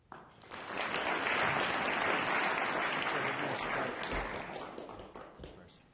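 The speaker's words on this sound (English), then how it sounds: "lots of applause" Dense, sustained audience applause fills a concert hall after a classical chamber performance by Curtis Institute of Music students, swelling quickly and holding steady before tapering off near the end.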